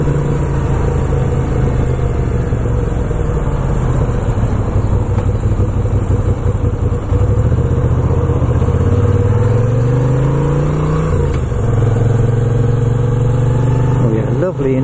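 A Moto Guzzi V7 II motorcycle engine while riding, a loud steady mid-pitched drone that rises and falls through gear changes as the rider speaks over it, with constant wind noise.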